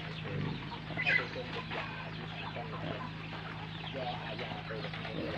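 Free-range native chickens on a Thai backyard farm, with soft scattered clucks beneath someone speaking and a steady low hum throughout.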